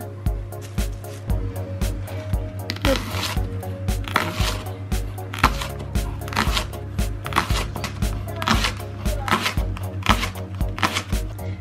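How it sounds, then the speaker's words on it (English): Knife slicing a leek on a cutting board, a steady series of sharp chopping knocks at a brisk, even rhythm, with low music or hum underneath. "we're just gonna cut it into small slices"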